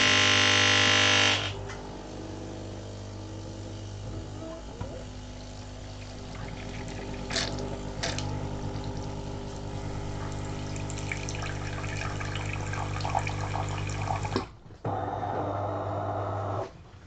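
A DeLonghi Autentica Cappuccino ETAM 29 660 SB coffee machine pumps and dispenses hot water through its spout, a sustained hissing, gurgling flow close by that cuts off near the end before a brief restart.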